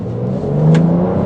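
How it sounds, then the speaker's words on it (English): A BMW X5 accelerates hard as its turbo spools up, giving a loud, close engine roar with a rising whirring tone over a little more than a second. "There goes the turbo spooling up."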